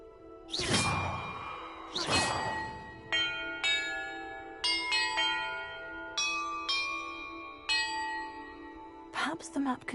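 Bells in Hogwarts Legacy ring one after another, clear metallic strikes with long decays, preceded by a couple of whooshing swells, loud and close with no talking.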